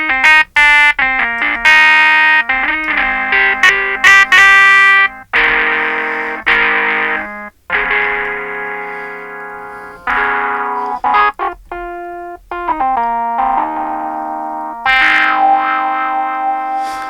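A Casio CT-S500 electric piano plays a sequence of chords and melodic runs through heavy distortion, loud and gritty, with sustained notes and brief pauses between phrases.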